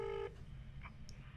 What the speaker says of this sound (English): I'll put him on speakerphone.